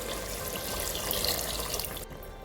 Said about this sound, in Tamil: அரிசி ஊற வச்ச தண்ணி சேர்த்துப்போம்.